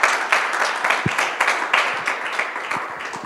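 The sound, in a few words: small audience applauding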